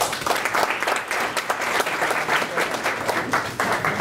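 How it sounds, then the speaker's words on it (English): A student government inauguration audience gives steady, loud applause from many hands, a continuous crowd clapping with no break. "give her a round of applause"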